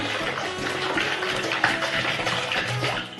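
Water gurgles and splashes steadily as it drains out of a plastic bottle in a tornado-in-a-bottle experiment, a continuous close bubbling pour with no voices.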